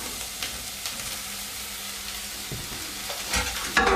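Lamb tipped into a pan with softened onion, garlic and carrots for shepherd's pie starts to fry with a low, steady sizzle, with a few clunks and a louder clatter near the end.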